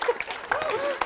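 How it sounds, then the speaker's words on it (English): Wedding guests applaud the groomsmen at a reception, a short burst of clapping mixed with a few voices and murmurs from the room. "get you all to do another round of applause"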